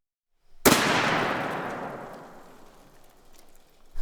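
A single .50 BMG rifle shot fired with cheap ammo at a row of airsoft guns, a sharp loud crack after brief silence, followed by a long decaying roar and echo that tails off over several seconds.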